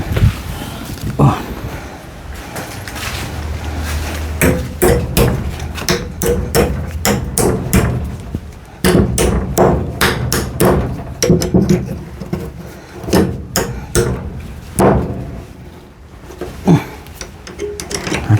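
Repeated hammer blows strike a nail in kitchen construction work in uneven bursts of rapid taps, close and loud, with a person talking in Thai over parts of it.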